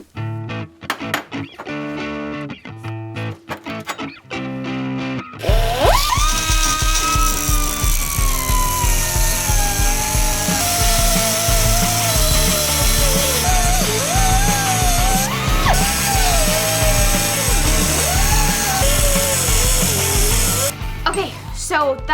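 A power tool cuts into the metal body of a 1965 Ford Falcon, a loud sustained whine that shifts in pitch as it bites, following several seconds of clattering handling noise.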